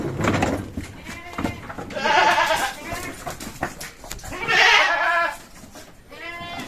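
Jawa Randu breeding does bleat repeatedly in several loud, wavering calls close by, with some background noise between the calls.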